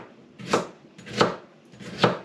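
Three sharp, evenly spaced knife chops through a fresh broccoli stem on a cutting board, each a crisp thud with a bright crack, close and loud with short pauses between.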